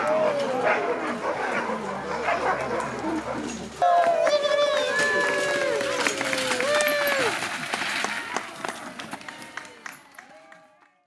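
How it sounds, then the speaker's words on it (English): Sled dog team at a demonstration in Alaska, with many dogs barking and yipping excitedly in a dense, loud chorus that continues throughout before tapering off near the end, under crowd noise. "Are you guys ready to see the sled dog team in action?"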